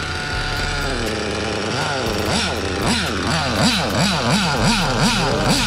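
A small petrol engine in a remote-control car runs loudly at close range, with a buzzy, chainsaw-like drone. Its pitch rises and falls in a repeated revving pattern over a steady idle.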